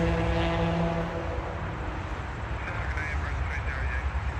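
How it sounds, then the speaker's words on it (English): An Emirates airliner lands on runway 23 at Toronto airport, heard as a steady, even roar of jet engines that holds at the same level throughout, with low tones fading early on. "I'll try to film a little bit of Emirates landing on runway 23."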